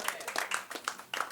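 A comedy club audience applauding comedian Craig: sparse, scattered clapping from a small crowd, several distinct claps in quick uneven bursts.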